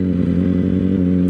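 A Yamaha R1 motorcycle fitted with a Blitz exhaust rumbles loud and close in a steady, deep, even drone with no talk over it.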